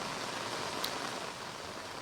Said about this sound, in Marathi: मोठ्या प्रमाणात पाऊस जो आहे तो पुण्यात सध्या सुरू आहे